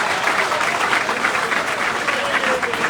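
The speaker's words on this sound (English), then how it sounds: "please give a mighty hand of applause to Dr." Audience applause at a political endorsement event, a dense, steady wash of many hands clapping throughout, loud and sustained, with faint crowd voices mixed in.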